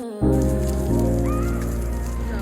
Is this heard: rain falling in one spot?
yes